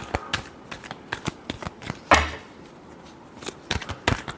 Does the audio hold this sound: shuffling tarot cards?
yes